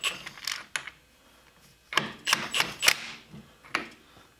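A wrench tightens the nut on the clutch of a Honda Fourtrax 300 ATV in a series of close metallic ratcheting clicks and clanks, arriving in short bursts separated by quiet pauses; no talking.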